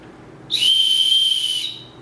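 One shrill blast from a plastic survival whistle, about a second long, piercing and close, with quiet before and after.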